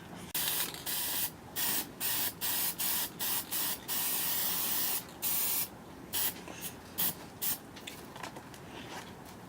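Repeated short bursts of spray paint hissing from a can, a dozen or so quick blasts with brief pauses between them, close and fairly loud.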